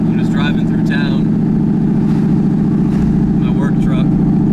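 Turbo LSX-powered Chevrolet Colorado truck driving through town, a constant deep engine hum and exhaust rumble up close, with a person talking over the steady drone throughout.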